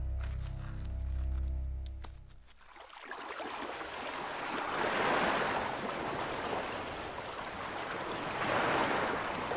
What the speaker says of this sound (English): warm tropical waves lapping over a white sandy shore